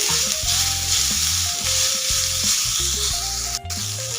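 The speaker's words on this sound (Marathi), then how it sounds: "हे सुद्धा कांद्यासोबत आपल्याला हलकासा परतून घ्यायचंय टोमॅटो" Chopped tomato sautéing with onion in a hot pan for misal, a steady loud sizzle and crackle with some stirring, alone with no talk.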